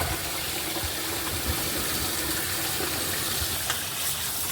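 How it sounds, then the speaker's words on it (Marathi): Old rice is rinsed in water for chicken biryani, with a steady, loud rush of running water and light sloshing close by, and no talking. "छान असा तांदूळ आपल्याला वॉश करून घ्यायचा आहे"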